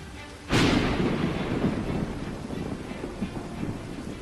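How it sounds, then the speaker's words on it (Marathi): Heavy monsoon rain with strong wind lashes Dadar Chowpatty beach in Mumbai. A sudden loud gust or crash opens into a steady roaring wash of wind and rain that fades slightly toward the end. "ज्या दादर चौपाटीवर महाराष्ट्रभरातून लोक येत असतात तिथंही जोरदार वाऱ्यासह मुसळधार पावसानं हजेरी लावली"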